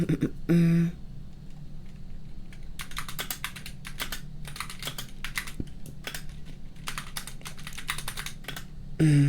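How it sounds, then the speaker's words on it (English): Fast, steady clacking of keys on a compact 70% mechanical keyboard, in bursts with brief pauses, close-up over a faint hum, with short voice fragments at the start and end. "Yeah, the mechanical keyboard."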